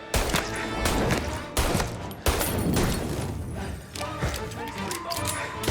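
Heavy gunfire from the Mafia Definitive Edition video game, final chapter shootout: dense overlapping bursts and shots with crashes, loud and continuous, under brief shouted voices.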